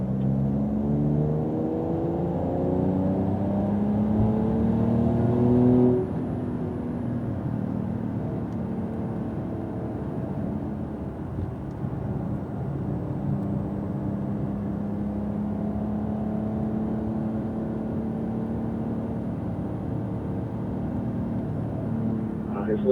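A Porsche Carrera GTS engine revs up and holds a steady, rising drone inside the cabin on a wet race track, with a voice talking over the continuous motor sound.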